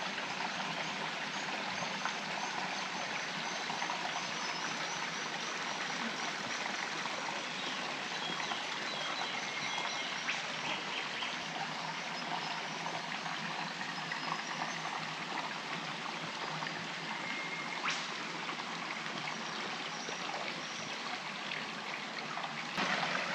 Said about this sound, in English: you can probably hear water.